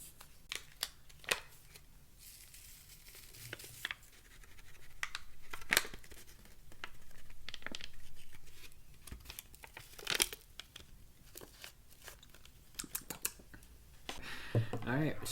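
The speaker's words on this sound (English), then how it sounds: "There's like plastic in when you're trying to rip it off." Plastic hot chocolate packaging being torn open by hand gives close crinkling and ripping bursts with sharp rustles and tearing scratches, mixed in with talk.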